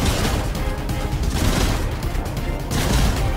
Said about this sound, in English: So you can kind of double pump with the new two-shot shotgun.